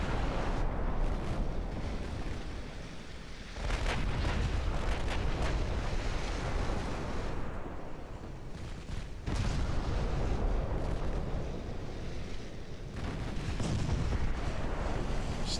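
Naval gunfire from warships in the Ultimate Admiral Dreadnoughts game, heavy booming salvos that swell and fade in waves over a rumbling, noisy battle backdrop.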